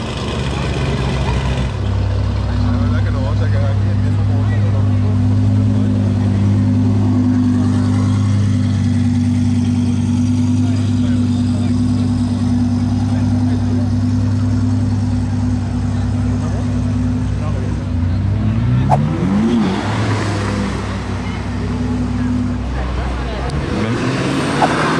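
An Audi R8 ABT XGT engine drones loudly and steadily at close range for most of the stretch, with a brief rise in revs near the end and faint roadside chatter underneath.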